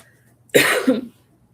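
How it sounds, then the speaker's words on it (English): A single short, close cough, harsh and breathy, in an otherwise quiet room. "I have a little bit of a lingering cough"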